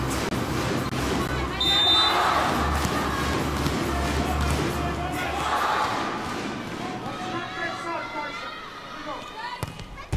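Thousands of Japanese fans at a women's volleyball match between Japan and the USA beat plastic clappers in a dense, loud, continuous rattling roar, mixed with crowd shouting and chanting before fading toward the end.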